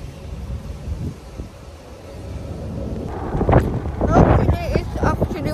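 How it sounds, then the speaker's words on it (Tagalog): Strong wind buffets the microphone in low, rumbling gusts outside a bakery on Muraqqabat Road, Dubai, with people talking over it as the gusts grow louder toward the end. "Ang lakas kasi ng hangin."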